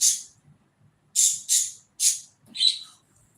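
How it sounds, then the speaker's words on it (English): Bright, high bird chirps ring out as a sound effect in separate bursts, one at the start, then three evenly spaced near the middle and a final, more tonal chirp, each loud and close over near silence. "They want me to put on some chirping."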